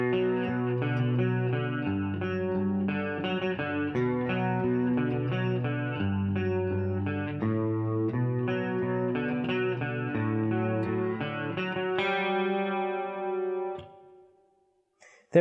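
Electric guitar playing a riff with double picking on the open and fretted strings, a steady, rhythmic run of plucked notes with a moderate effected tone, ending on a ringing chord that fades out, heard alone.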